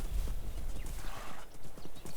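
Horse hooves clip-clop steadily in a video game, a quick rhythmic trot with a whinny mixed in, fairly close and loud, with no talking.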